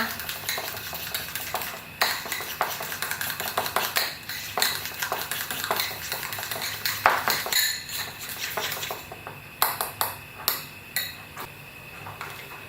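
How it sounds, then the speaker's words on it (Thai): Eggs whisked by hand in a bowl for a lime cream salad dressing, a steady clatter of utensil against the bowl with sharper clinks near the end, no talking. "เราก็ตีไปแบบนี้นะคะ ให้ไข่ขึ้นฟูนะคะ"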